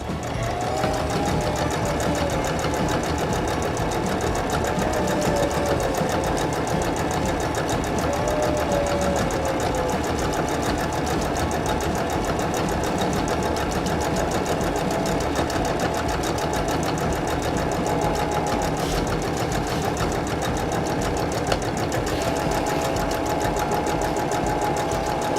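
A sewing machine runs steadily and continuously, back stitching a seam on a drawstring bag; a close, even mechanical hum and rapid needle chatter with no pauses.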